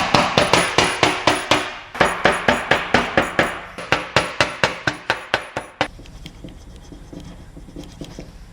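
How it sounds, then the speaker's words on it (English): A hammer taps the metal of a 1969 VW Beetle in quick, even runs of sharp ringing strikes, pausing briefly between bursts, then stopping, leaving a quiet room. "Magical hammer. You're going to tap round it."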